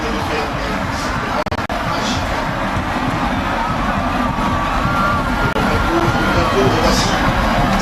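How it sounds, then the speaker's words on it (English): Stadium crowd at the Africa Games athletics high jump final, Morocco's Saad Hamouda among the jumpers, roars steadily throughout with a broad wash of cheering and shouting, with a couple of brief sharp knocks near the start. "Morocco's Saad Hamouda stirring up the crowd and stirring up the viewers."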